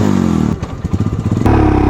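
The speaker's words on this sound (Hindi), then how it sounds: "गाड़ी शुरू कर दिया।" A Royal Enfield Himalayan BS6 motorcycle engine cranks with a brief clattering of the starter, then catches and settles into a loud, steady, close idle.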